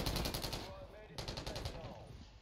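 Rapid automatic gunfire from the Striker 9 in a multiplayer shooter video game, two loud bursts of fast repeated shots separated by a short pause, with game sounds behind.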